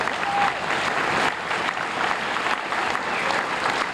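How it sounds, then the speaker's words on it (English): A town hall audience on the I-270 and Beltway issue applauds itself, producing a dense, steady wash of many hands clapping at close range. The applause holds at an even level for the whole stretch. "Please give yourselves a round of applause"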